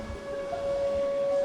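A single steady storm warning siren wail holds one sustained tone for over a second, loud and droning, then cuts off.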